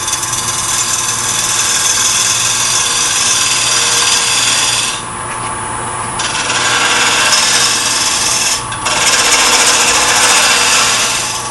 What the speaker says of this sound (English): Turning down my glue block a little bit.